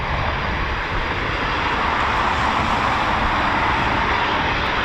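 A Eurofighter Typhoon FGR4 with twin Rolls-Royce EJ200 engines roars continuously at an RAF station, a loud, broad, steady jet rumble that fills the whole stretch with no break and no talk.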